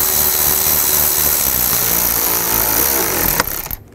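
Power tool driving down bolts on the passenger-side variable valve timing solenoid of a 2005-2015 Nissan Xterra, a loud, steady whir running continuously close by before cutting off abruptly near the end.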